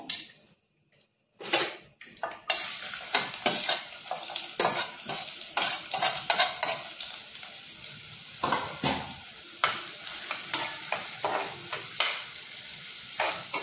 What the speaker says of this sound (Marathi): ह्याच कढईत आपण कांदा टाकणार आहोत फोडणीला।